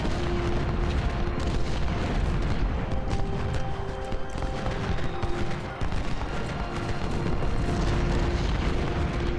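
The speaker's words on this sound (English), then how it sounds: "Maybe if they fire a few volleys." Musket volleys from massed infantry in the Ultimate General: Civil War game's Gettysburg battle: a dense, continuous roar of overlapping gunfire and booms, loud and sustained with no pauses.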